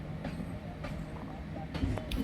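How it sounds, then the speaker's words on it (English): A train rolls past near a lake, a steady rumble with faint clicks and a few sharper knocks toward the end, under light background noise. "You can see there is a train passing by."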